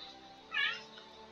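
A short cat meow in a strategy game rises briefly at mid-clip over a steady low background, fairly faint and alone.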